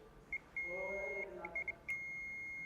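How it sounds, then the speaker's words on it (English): A high electronic multimeter continuity beep sounds in several short bursts, then holds steady as a continuous tone near the end; quiet and close. "if there's a complete circuit, it will beep"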